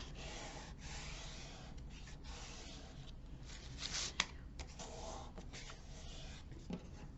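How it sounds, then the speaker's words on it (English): A bone folder presses and rubs along a paper fold while a shadowbox frame is being assembled, giving soft, close scraping strokes in short repeated passes, faint and dry. "Come back with my bone folder. Go on the other side and continue pushing down on the fold."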